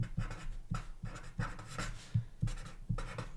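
Pen scratching across paper in quiet bursts, a few short strokes with brief pauses between, close and soft, while writing out a sum of natural numbers.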